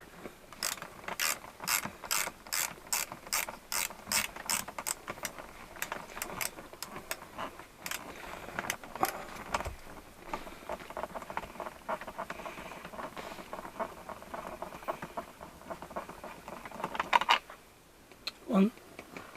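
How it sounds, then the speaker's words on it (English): A ratchet clicks in rapid, regular bursts while undoing two T40 Torx bolts on a Land Rover Discovery 3/4 or Range Rover Sport interior, loud and close, then slowing into scattered clicks and clunks. "So there's 2 T40 Torx bolts, one either side, so one here and one here, so just undo them."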